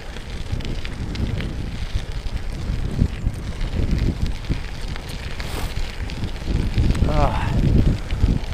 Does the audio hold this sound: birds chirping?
no